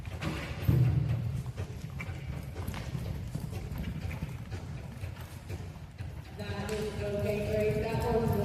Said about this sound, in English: Okay, Grace, that horse was working for you.